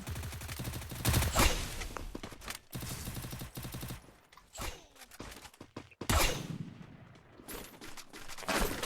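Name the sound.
gunfire in a battle royale video game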